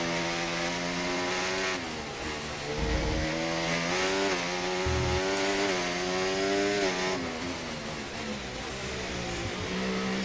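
A Formula 1 car engine in the racing game F1 24 at the Singapore circuit, a loud continuous high whine climbing and shifting in pitch as it accelerates, heard alone without talk.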